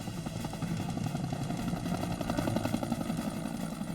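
A steady, throbbing helicopter rotor chops continuously at moderate loudness as the helicopter descends, with engine drone underneath and no pauses.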